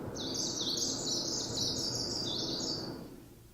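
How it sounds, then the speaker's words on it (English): A greenish warbler sings in Kyrgyzstan, a rapid high-pitched run of repeated buzzy notes lasting about three seconds over a constant noisy background hum. "So here's another really cool bird called the greenish warbler."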